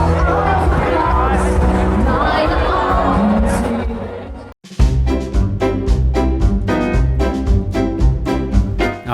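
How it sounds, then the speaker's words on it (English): A lively crowd at a Bavarian beer festival, with dense babble and voices singing along, then a short break before rhythmic clapping and singing continue strongly, loud and close throughout. "The festival comes alive with the sounds of traditional Bavarian songs and some more popular sing-along tunes"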